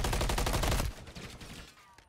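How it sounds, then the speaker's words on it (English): Automatic gunfire in Call of Duty Modern Warfare III during a competitive CRL match: a dense, rapid burst emptying a magazine for under a second, then cutting off to near quiet. "Empties out a magazine."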